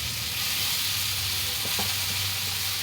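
Blended pumpkin leaves frying over high heat in a pan, a loud continuous hiss and sizzle close up, with a brief stirring scrape midway and no talk.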